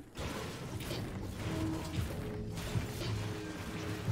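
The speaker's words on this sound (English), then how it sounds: "I probably shouldn't be out here breaking all this metal." Metal objects being smashed and broken in Fortnite: a steady run of clanking, grinding mechanical impacts, fairly quiet and continuous, with no voices over it.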